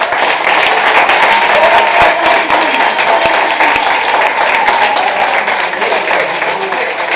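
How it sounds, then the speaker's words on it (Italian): An audience in a packed venue at a concert tour stop applauds loudly and continuously, a dense wash of many hands clapping close by with no break throughout. "Fate sentire l'applauso."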